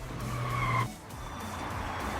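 Car tires squeal in a sharp, loud skid on the road as vehicles brake hard to stop, the screech breaking off abruptly and giving way to a rumbling engine and road noise.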